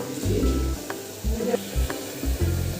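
Onions fry in a pan for a meat curry, a soft sizzle broken by rhythmic scraping and stirring strokes, fairly faint and close.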